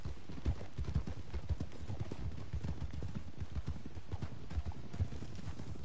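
Horses clip-clopping along a trail ride in Red Dead Online, a steady run of hoofbeats from several mounts moving together, close and clear with no voices.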